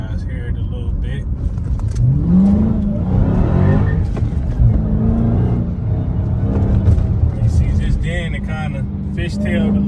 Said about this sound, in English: you hear the tires burn a lot easier when that sport mode is on